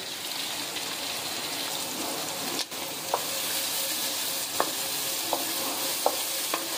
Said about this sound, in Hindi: घी हमारा गर्म हो चुका है, अब इसमें प्याज डाल देंगे।